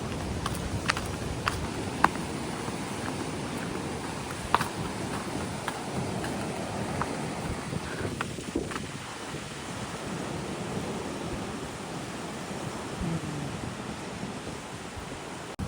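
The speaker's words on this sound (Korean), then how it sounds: "조금 바다 소리가 장난 아니네" Rough sea surf and gusting wind on Miyakejima island, Japan, roar as a steady broadband wash with scattered sharp ticks and crackles and no voices.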